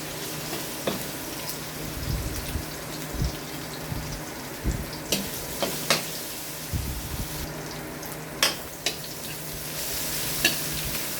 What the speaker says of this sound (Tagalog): Lagay ko na rin po itong sibuyas.